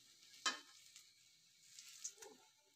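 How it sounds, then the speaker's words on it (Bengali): Sliced onions fry in a pan of oil and are stirred until golden and crisp, giving a faint, steady sizzle broken by a couple of soft scraping stirs. "সবসময় নাড়াচাড়া করে ভালোভাবে ভেজে নিতে হয়।"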